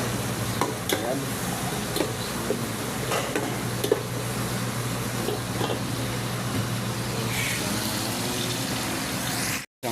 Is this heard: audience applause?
no